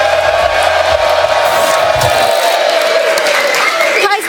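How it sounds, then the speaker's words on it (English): A crowd at a mall in Atlanta ahead of Super Bowl 53 cheers and applauds for Kyler Murray, a loud, steady roar of voices and clapping with a host talking over it. "This crowd is ready"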